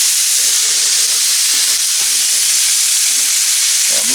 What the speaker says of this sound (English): Got a nice little hard sear on there.